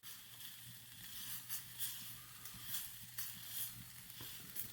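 Food with a marinara-like sauce sizzles quietly in a pan, a faint continuous crackle with soft irregular spits and a low steady hum underneath, no talking.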